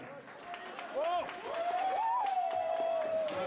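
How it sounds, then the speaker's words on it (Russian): An audience applauds at a ringside fight event, scattered clapping running beneath a loud, excited voice that shouts and rises over it for most of the stretch. "Аплодисменты."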